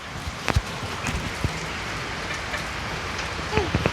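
Steady rain falls on outdoor surfaces as a constant, even hiss, with scattered louder drops and taps standing out close by.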